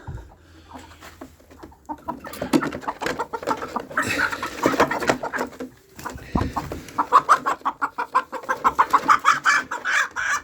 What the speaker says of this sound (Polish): Pierw kureczki wpuścimy.